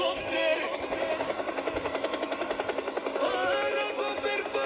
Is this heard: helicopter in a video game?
yes